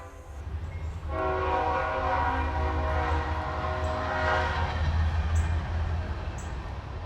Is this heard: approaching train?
yes